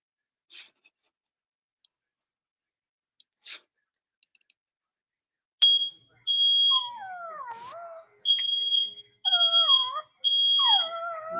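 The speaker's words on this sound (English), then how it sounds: "Fire alarm going off at 3 o'clock in the morning on Murphy's Travels." A home fire alarm sounds at night in a quiet house with a dog present: after scattered faint clicks, loud repeated high-pitched beeps begin in bursts while a dog whines and howls along close by.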